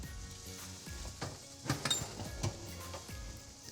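Sirloin chorizo burgers cook on a KitchenAid Smart Oven+ grill, giving a soft continuous sizzle with light crackles and a few small clinks, fairly quiet and close, no talking.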